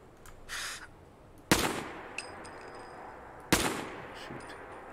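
Two loud gunshots from the video game Fallout 4, spaced about two seconds apart, each a sharp crack followed by a decaying echo, with small clicks and faint background noise between.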